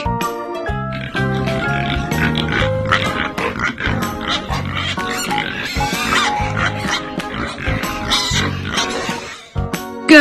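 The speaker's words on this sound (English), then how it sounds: "Pig." A pig grunts and squeals repeatedly up close, a busy run of loud snorting oinks with little pause.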